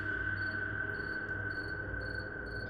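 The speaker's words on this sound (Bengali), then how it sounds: "ঝিঝির ডাক" Crickets chirp in a steady, faint chorus, with a regular pulsing trill repeating over a low constant background hum.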